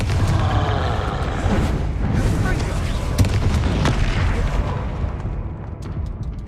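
Blasting-spell explosions go off in the Hogwarts Legacy video game as a dense, loud rumble of booms and bursts with a few sharper hits, fading slightly toward the end among scattered clicking effects.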